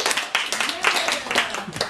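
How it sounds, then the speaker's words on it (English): A small group at a home training party claps in quick, uneven bursts, close and lively, with voices mixed in among the claps. "I think that deserves a round of applause."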